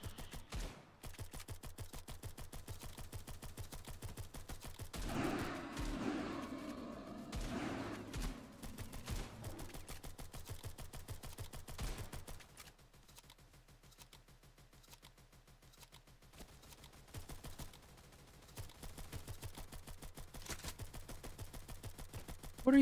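Rapid automatic gunfire from the online shooter Stalcraft rattles in long, even bursts that are fairly faint and distant. The sound swells in the middle and then thins out, with no talking.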